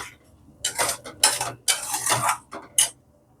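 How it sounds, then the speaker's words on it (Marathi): Masala with tomato puree frying in oil in a pan, stirred with a spoon: irregular bursts of scraping and clattering with soft sizzle between strokes, close and moderately loud, with no talking. "हा मसाला व्यवस्थित फ्राय करून घ्यायचा आहे तेलात, तेल सुटेस्तोवर"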